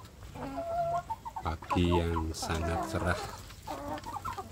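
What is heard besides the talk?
free-range chicks and chickens clucking in coop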